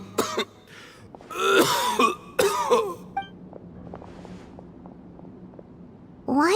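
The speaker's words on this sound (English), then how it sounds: "Why is he coughing so much?" A game character in Genshin Impact coughs and clears his throat in a string of loud, raspy bursts over the first three seconds. Quieter background game sounds follow, and another sharp sound comes in at the end.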